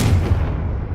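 A Confringo explosive spell blast in the Hogwarts Legacy video game goes off as a single loud, deep boom that rumbles briefly and fades within a second.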